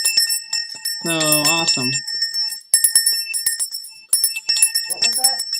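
A small bell rings in short bright bursts, mixed with and partly under speech, with a voice exclaiming in between strikes.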